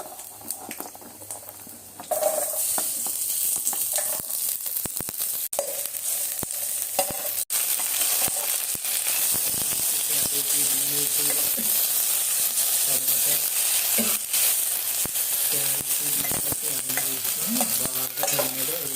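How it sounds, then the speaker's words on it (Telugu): Vaddanalu frying in oil in a home kitchen pan, a loud steady sizzle that jumps up after a quieter start, with stirring scrapes running through to the end. "బాగా నూనెలో వేసేసి కలుపు."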